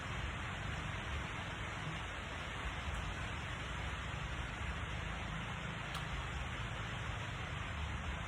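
Steady rain falling, a dense even hiss of drops that holds at the same level throughout with no voices or distinct events.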